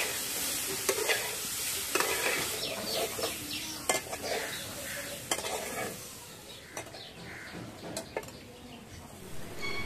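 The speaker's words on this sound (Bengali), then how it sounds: "একটু খেতে ভালো লাগবে বলে একটুখানি কড়াইতে নেড়ে দিলাম" Steamed broccoli with white sesame is stirred in a wok, with a soft continuous sizzle broken by repeated scraping and clinking spatula strokes at an uneven rhythm, close and moderately quiet.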